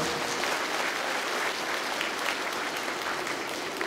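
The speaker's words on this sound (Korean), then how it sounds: "박수 부탁드립니다" Steady, dense applause from a large audience at a citizens' rally in Pohang calling for a POSTECH research medical school, loud and continuous throughout with no pauses.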